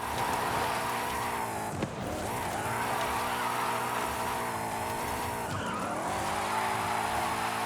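A car drifting in the Forza Horizon racing game, a loud sustained engine roar with continuous tire squeal and skidding, the revs dipping and rising twice as the drift shifts angle.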